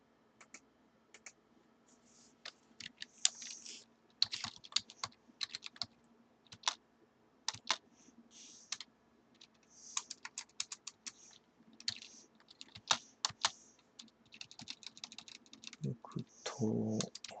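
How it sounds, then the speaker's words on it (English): Fingers type on a computer keyboard in a quiet room, a steady run of separate clicks and short bursts of keystrokes spread across the whole stretch, close and fairly crisp, with a brief low murmur of voice near the end. "Here, let me type it for you."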